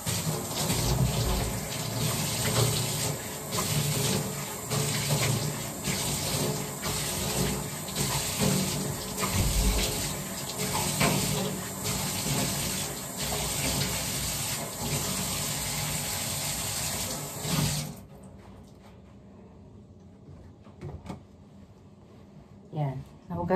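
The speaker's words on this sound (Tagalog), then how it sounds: "Huhugasan na natin yung mukha ko." Water runs steadily from a tap during a face wash in a skin care routine, a continuous close splashing rush for most of the clip that stops abruptly near the end, leaving quiet handling sounds.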